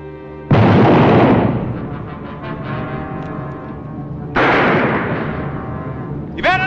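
Gunfire in an old Western shootout: two loud booming shots, one at the start and another about four seconds later, each trailing off into a long rumbling echo, with a brief sharp burst at the very end.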